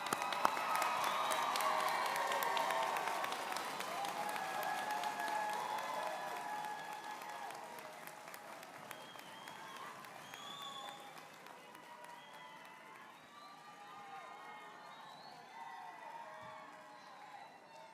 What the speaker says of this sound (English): It is appropriate, ladies and gentlemen, that you applaud them.